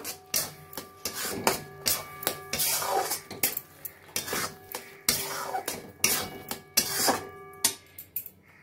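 A spoon stirs milk into semolina (suji) in a metal pan, making irregular scraping and clinking strokes at close range, each scrape rising and fading, with no talking.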